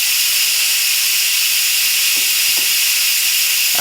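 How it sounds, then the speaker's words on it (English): An Instant Pot Duo 60 electric pressure cooker releases its pressure through the vent in a steady, loud, continuous hiss of steam that holds even throughout, with a few faint knocks underneath. "So what I'm doing right now is to just let the pressure vent off. So that's the sound that you're hearing."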